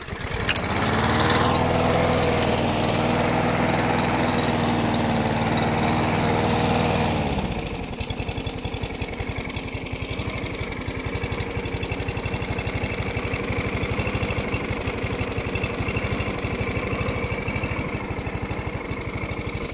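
Petrol lawn mower engine roaring loud and close at high revs, then dropping after about seven seconds to a steadier, lower running note that continues to the end.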